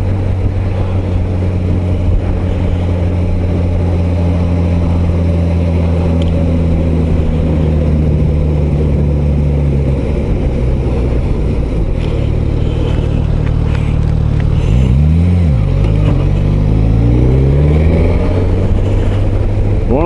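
Suzuki GSX-S 1000 GT four-cylinder motorcycle being ridden, a loud steady engine drone with wind rush, the pitch holding, dipping on a downshift and then climbing again as it accelerates.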